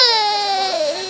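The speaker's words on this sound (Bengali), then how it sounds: "ও কেঁদে পাগল হয়ে যাচ্ছে" A baby cries in a loud, drawn-out wail that falls in pitch and breaks briefly near the end, close and alone, during rain.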